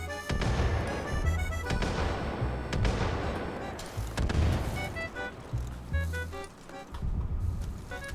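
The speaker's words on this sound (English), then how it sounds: "Wait, can we just grenade him?" Several grenade-like explosions and crashing impacts go off in a chaotic video game, loud and repeated, mixed with game music and scattered voices.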